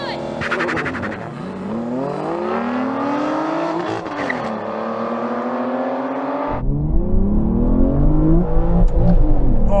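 Aston Martin Valkyrie, Vanquish and V12 Vantage drag racing, with loud engines revving hard and rising through the gears, a shift dip midway and a deep roar swelling toward the end.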